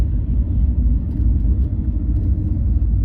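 A car's engine hums in a steady, low, continuous rumble throughout a driving-school lesson, with no talking over it.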